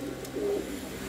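A double-crested violet pigeon gives a single short, low coo, close and clear over a faint background hum in a pigeon shop, with no voices.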